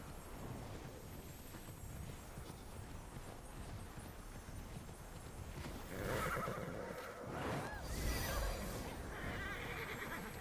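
A horse gallops with steady hoofbeats in the video game Immortals Fenyx Rising, then a loud neigh rises over the running around the middle, with the galloping continuing after it.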